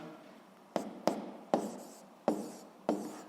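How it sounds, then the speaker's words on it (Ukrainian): A pen scratches on paper in short strokes, about five distinct bursts at an uneven pace, each tailing off quickly, quiet and close with no voice over it. "Ну що ж, записуємо відповідь, пишемо відповідь."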